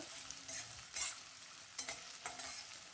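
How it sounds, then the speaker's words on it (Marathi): Thinly sliced onions frying in oil, a faint continuous sizzle broken by several soft stirring scrapes spaced irregularly. "आता हा सगळा कांदा या तेलामध्ये घातला आणि आपल्याला हा तळून घ्यायचा आहे छान ब्राऊन रंग येईपर्यंत"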